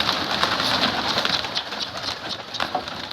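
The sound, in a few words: turtle doves cooing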